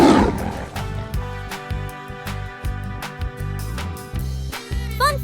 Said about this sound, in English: Tiger's sound is roar.